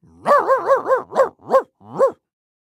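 A dog barks seven times in a quick, evenly spaced run, close and loud, with a slight pause before the final two barks and silence after.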